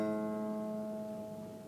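A steady sustained musical tone played as the fundamental harmonic in a physics lecture, one even pitched note with a stack of overtones, fading slightly, no speech over it.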